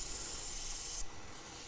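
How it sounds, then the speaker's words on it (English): Steady, close rubbing of fine-grit sandpaper (about 400–600) by hand against an ambrosia maple bowl spinning on a lathe, a dry hiss that drops in brightness partway through. "I'll always finish with a bit of hand sanding, say on about sort of 400, 600."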